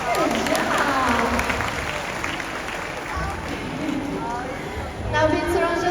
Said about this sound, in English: Everyone round of applause for Narnia.